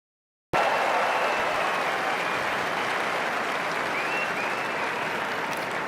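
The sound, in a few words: crowd applause at outdoor parade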